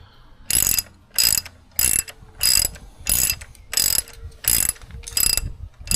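Ratchet wrench turning the top shock mount bolt on a 2024 Triumph Speed Twin motorcycle: nine loud, evenly spaced bursts of rapid clicking, each about half a second long, close up with short pauses between strokes and no talk.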